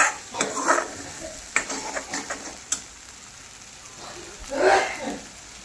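Masala spices fry in oil for a paneer dish, with faint sizzling under scattered scrapes and clinks of a spoon stirring against the pan, quiet between short bursts.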